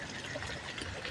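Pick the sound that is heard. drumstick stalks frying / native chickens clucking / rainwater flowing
rainwater flowing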